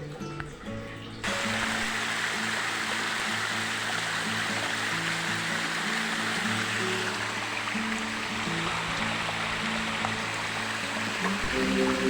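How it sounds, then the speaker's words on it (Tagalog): A small unnamed waterfall beside a mountain bike trail, its steady broadband rush of falling water close and continuous throughout, with faint low background tones and no talking. "meron akong nakitang Tagum Falls"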